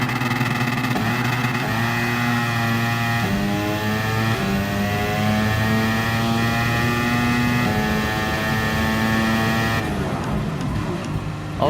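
Race car engine in Gran Turismo Sport revving hard and holding steady near the top of the rev range, a loud continuous buzzing drone with rising pitch steps, cutting off sharply near the end.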